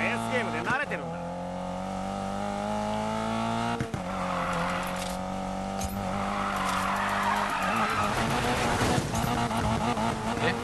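A car drifting in the racing game Need for Speed Payback, with sustained engine drone, sliding tire squeal and bursts of skidding over game music, while people talk over it.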